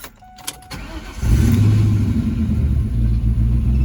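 A 2004 Ford Mustang GT V8 cranks over and fires up, settling into a loud, steady rumbling idle up close, with no talking.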